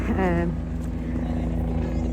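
A helicopter flying overhead in London, a steady low rotor drone that continues throughout, with a person speaking briefly at the start.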